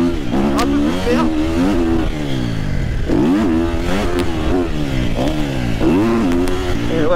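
Triumph TF 250-X motorcycle with a full exhaust, revving in repeated rising and falling bursts as it works through gears, loud and close with a crisp single-cylinder bark.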